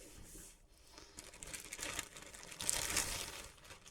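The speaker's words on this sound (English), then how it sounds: "So it comes in a cloth type bag and a plastic bag." An MSI GT62VR Dominator Pro gaming laptop being unwrapped from a cloth bag and plastic bag, with close, quiet crinkling and rustling that builds into sharper plastic crackles near the end.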